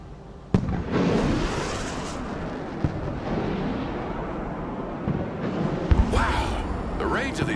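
Anti-aircraft missiles launch in the video game Broken Arrow, with a sharp blast at the start followed by a long roaring rumble and further scattered bangs.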